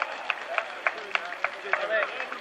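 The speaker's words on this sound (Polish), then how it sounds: "Duże brawa! Duże brawa!" Hands clap in a steady, even rhythm at a local football club's trophy ceremony on the pitch, about three claps a second, fairly close and sharp.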